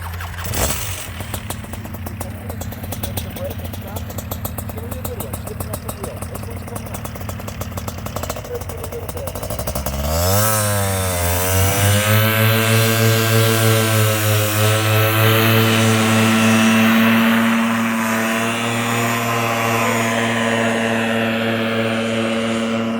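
A paramotor engine kicks on and climbs from a rough, rattling start into a steady, loud drone at throttle, holding close and continuous with faint voice under it.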